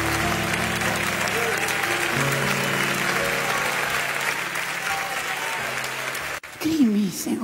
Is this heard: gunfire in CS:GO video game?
no